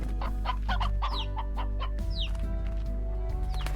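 Roosters and hens in the Slime Rancher video game cluck in repeated short bursts over a constant low hum, with a few rising chirps, close and clear.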